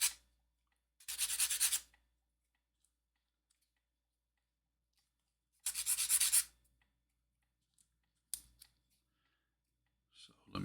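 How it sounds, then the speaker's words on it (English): Painted model parts for a Moomin build, coated with Humbrol paint, being sanded by hand: two separate bursts of bright, scratchy rasping close up, with silence between them and a few light clicks and taps afterward. "So let me get these sanded down"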